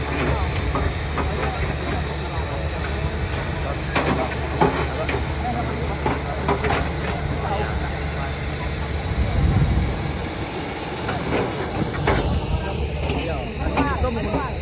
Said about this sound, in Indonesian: Dua mesin sedot air masuk ke tempon, ditambah hidup mesin pendorong itulah.